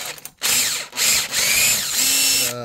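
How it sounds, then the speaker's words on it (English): A power drill tapping bolt holes on a mini skid steer, whirring loudly in short bursts that rise and fall, with a brief pause between runs. "what I've been doing is tapping these holes"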